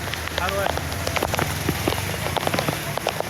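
Steady rain patters on a surface at Valinath Chowk, with many small distinct drops tapping close by in an irregular, continuous rhythm.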